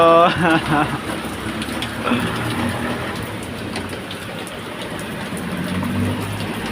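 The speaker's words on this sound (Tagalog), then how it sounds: "Ayan, malakas na yung ulan." Heavy rain pours down in a steady broadband hiss, with a brief voice-like sound near the start.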